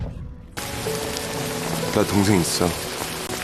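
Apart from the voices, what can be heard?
rain falling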